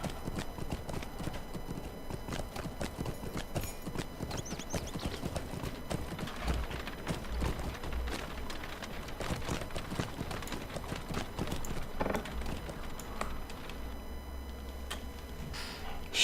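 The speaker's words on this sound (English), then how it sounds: "Let's get on a horse" A horse ridden in the video game Lord of the Rings Online, its hooves clip-clopping in a continuous fast rhythm over game ambience and music.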